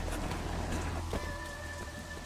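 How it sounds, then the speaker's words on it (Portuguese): Steady rain pours down continuously in the video game Sleeping Dogs, a dense hiss of drops close around, with a faint tonal hum entering partway through. "Tá escorregando, tá chovendo, né?"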